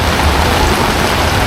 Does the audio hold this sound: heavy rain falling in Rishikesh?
yes